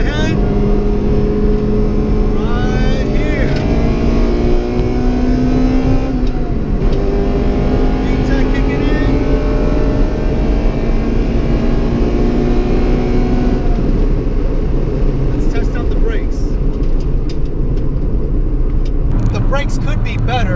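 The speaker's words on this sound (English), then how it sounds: "VTEC's kicking in right there." Acura Integra Type R engine revving hard through the gears with VTEC engaging, a loud, near, rising high-pitched howl that climbs repeatedly, drops sharply at the shifts, then climbs again, heard from inside the car with talk over it.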